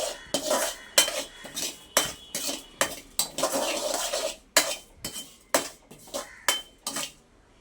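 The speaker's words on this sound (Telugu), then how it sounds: "ఈ నువ్వులు కూడా దోరగా వేగేంత వరకు వేయించుకోవాలి" Sesame seeds roasting in a pan while being stirred, giving a steady series of close, bright metallic scrapes and clinks of a spoon against the pan, with a faint crackle beneath and no voices.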